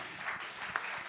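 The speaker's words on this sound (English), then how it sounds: "a big round of applause for our participants" Faint, brief applause from a summit audience for session participants, soft scattered clapping at a distance.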